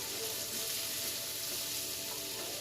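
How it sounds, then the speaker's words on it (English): Onions frying in hot oil for a stir fry give a steady, close sizzle and crackle that holds evenly throughout, with no talking. "I'm just tossing those onions to get them coated in this sauce, or in our oil, so they can cook down."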